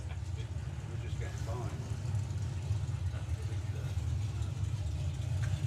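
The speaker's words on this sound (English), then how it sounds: "next up is going to be Andy Park with the twin screw U, the little Whipple supercharger on this little Ford" A little Ford drag car with a twin-screw Whipple supercharger rumbles with a steady, deep engine drone at a drag racing event, while a voice talks over it throughout.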